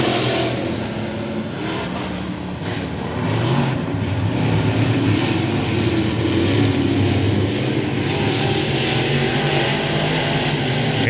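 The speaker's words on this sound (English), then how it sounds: "Revving up those modified engines." A pack of dirt track race cars with modified engines roars at the green flag at I-37 Speedway, a loud continuous mass of revving that swells as the field accelerates together.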